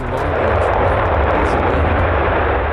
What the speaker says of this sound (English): I'm so looking forward to hearing this thing start up.